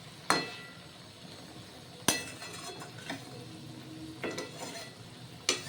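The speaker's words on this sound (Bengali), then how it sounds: "ঘি মিশিয়ে দিলাম।" A spoon stirs ghee into cooked moong dal with ash gourd in a pot, giving a few sharp metallic clinks and scrapes spaced apart over quiet, close and without speech.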